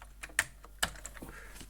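Keys clack on a computer keyboard fitted with new keycaps, several quick, crisp, close taps in an uneven typing rhythm.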